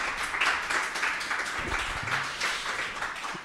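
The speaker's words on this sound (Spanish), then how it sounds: "Podéis aplaudir, sí, podéis aplaudir, sin problema." An audience applauds at the close of a Spanish-language live talk on sexuality, education and screens, with steady sustained clapping from a crowd close by and no voices.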